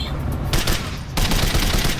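Shotgun fire in a video game, heavy dense blasts with a burst near the start and louder sustained bursts from the middle onward, loud and close with no talk.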